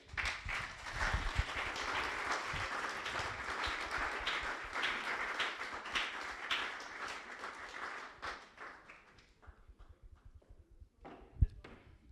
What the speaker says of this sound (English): Round of applause for Katisha.